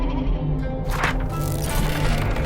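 A black lamb in the video game Wuthering Waves gives a single close bleat over a dense, loud layer of ambient sound.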